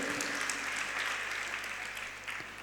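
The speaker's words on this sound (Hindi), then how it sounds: "तालियां बजाइए उस भाई के लिए।" Steady applause from an audience at a religious discourse, a dense wash of clapping that holds evenly throughout with no voices over it.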